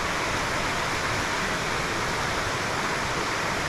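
A river rushes at the end of a rainy hiking trail near a waterfall drop-off in La Fortuna, Costa Rica: a steady, close, loud broadband roar of churning water with no pauses and no voices.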